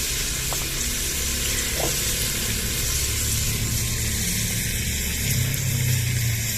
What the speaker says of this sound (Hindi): तो अभी जो घी गर्म हो गया, अभी जो टमाटर इसमें डालते हैं।